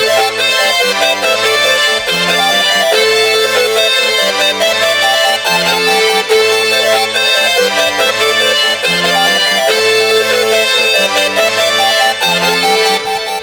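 Futuristic Glo-style trap beat melody: dense synth melody with layered tones over a bouncing low bass line with brass in the low end, loud and continuous with a steady rhythmic pulse, no voices.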